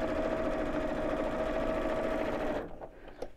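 Steady, continuous whirring of a sewing machine stitching across the bottom of a messenger bag, running alone for a couple of seconds before stopping abruptly, followed by faint handling sounds.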